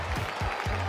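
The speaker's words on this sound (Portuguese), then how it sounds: "o público aplaude." An audience claps in a short, steady burst, accompanying a doll game played with Ladybug and Cat Noir toys.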